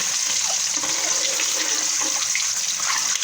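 Eggs and potatoes lightly frying in a pan for an aloo anda gravy, a continuous bright sizzle and crackle at a steady close level, with no voices.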